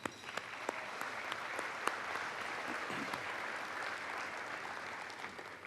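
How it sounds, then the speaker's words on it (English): A banquet audience at a Houma Terrebonne Chamber of Commerce dinner gives a steady round of applause. It carries at an even level throughout, with a few sharper claps standing out and no voice over it. "Let's give them all a round of applause."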